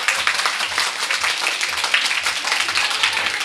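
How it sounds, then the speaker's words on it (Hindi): Schoolchildren applaud their teachers, a dense, steady round of many small hands clapping in a room for a few seconds, bright and moderately loud, with no talking. "एक बार दीदी लोग के लिए ताली बजेगी।"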